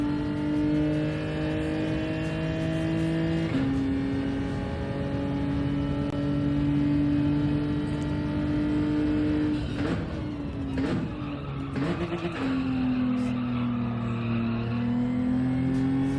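A video game race car laps the Yas Marina circuit, its engine a steady loud drone that shifts pitch through gear changes and downshifts, heard alone without talk.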